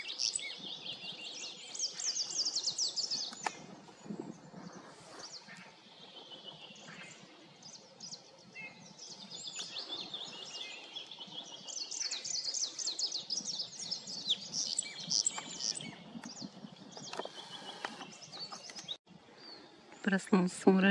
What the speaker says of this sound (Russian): Птички, которые прилетали ко мне на кормушку зимой.